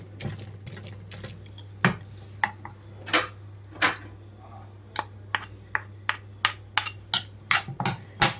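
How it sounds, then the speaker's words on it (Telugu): Repeated metallic clinks and soft thuds of a ladle pressing and mashing cauliflower in a metal pot, irregular and close, over a faint low hum. "పప్పు గుత్తితో కానివ్వండి, గట్టిగా ఉన్న గరిటెతో కానివ్వండి, ఇలా మెదుపుకోండి"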